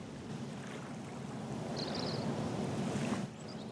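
Ocean waves, a soft, steady wash of surf that builds slightly over a few seconds and then drops off abruptly, heard from a distance with no voices.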